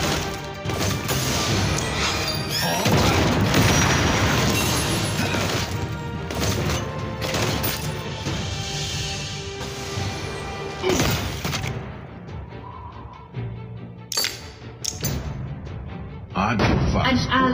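War Machine's missile barrage in the Marvel Super War game sets off a dense run of loud crashing explosions and impacts, mixed with game effects and an announcer voice, then trailing into scattered blasts.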